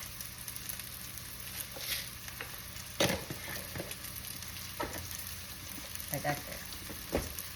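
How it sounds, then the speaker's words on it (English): Bacon frying in a pan for a shrimp and risotto dish, a faint steady sizzle with scattered stirring clatters and a brief spoken remark. "We want to get this bacon pretty crisp."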